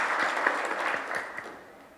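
An audience at a business survey report launch gives a short, soft round of applause, dense patter fading toward the end, heard from a distance with no voices over it.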